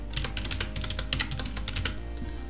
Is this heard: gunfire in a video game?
no